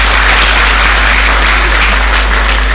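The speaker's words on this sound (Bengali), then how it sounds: "তার জন্য একটা জোরে হাততালি হবে" Dense, continuous applause from an audience at a Rotary Club event, steady and loud throughout with no voices standing out.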